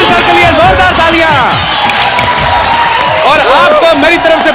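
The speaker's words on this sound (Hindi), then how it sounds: "अनिल सर के लिए जोरदार तालियां" Studio audience applauding on a Hindi comedy talk show: loud, dense clapping and cheering with whoops, running throughout with crowd voices mixed in.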